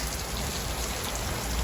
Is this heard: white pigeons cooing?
no